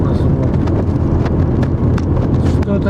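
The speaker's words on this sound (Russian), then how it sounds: "Что-то сегодня ветер разгулялся." Strong gusting wind, around 30 or more, blasts straight into the microphone outdoors, a loud continuous rumbling roar with buffeting pulses that covers the whole stretch.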